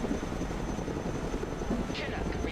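A Chinook helicopter in Broken Arrow flies with a steady, dense rotor drone throughout, a faint whine riding above it and a brief rising tone near the end.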